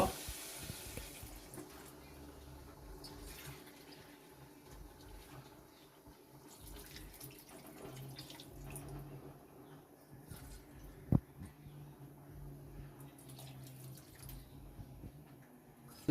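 Water pours into a pan of potato and soybean curry in a home kitchen, a faint, steady trickle and splash lasting several seconds under low background noise, with one brief knock near the end.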